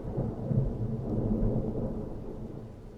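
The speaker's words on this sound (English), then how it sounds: "It was raining outside." Steady rain pours with a low, continuous rumble of thunder rolling beneath it, dense and close with no voices.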